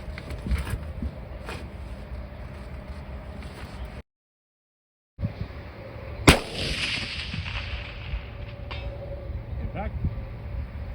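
A single sharp Mosin rifle shot at a long-range target, loud and close, cracking out over steady outdoor background noise, with a brief dropout shortly before the shot.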